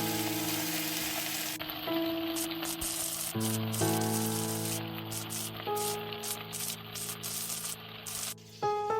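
Garlic and beef stir-frying in a hot pan, a steady soft sizzle that runs throughout, with faint clinks and tonal kitchen noises over it.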